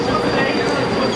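A Moscow metro train departs on the newly opened Troitskaya line, rumbling steadily in a continuous loud roll, with a faint high whine over the hum of the carriage.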